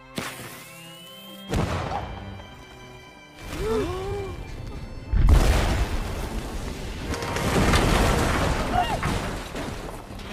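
Film soundtrack from Peter Rabbit (2018), in which a detonator remote is pressed, setting off loud booms and crashes: a sudden hit, then swooshing effects, then a big low blast followed by sustained rumbling debris and noise.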